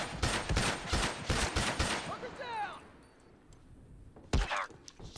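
Rapid gunfire in The Last of Us online multiplayer: a close, loud volley of sharp shots for about two seconds, then whooshing sweeps and a quieter lull before another short burst near the end.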